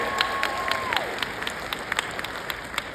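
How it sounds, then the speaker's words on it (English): Scattered clapping from a crowd, light and steady, with a sustained electronic tone that fades and bends downward early on. "give them a round of applause because that is something to be celebrated"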